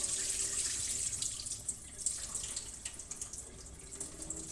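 Water runs in a steady splashing stream into a pot on the stove while chicken and rice are cooked in coconut, close and continuous with no talk.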